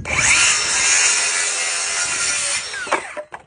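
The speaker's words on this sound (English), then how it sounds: "When you're cutting 2x4s, you don't always have to use your square to get a straight cut." A power saw cuts straight across a wooden 2x4 for framing with a loud, steady whining buzz that ends in a few rattling clunks as the blade winds down.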